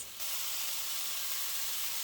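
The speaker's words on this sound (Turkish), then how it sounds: "Böyle tavada soteliyorum." A steady, loud sizzle of apples sautéing in a hot pan, starting abruptly and holding an even hiss throughout.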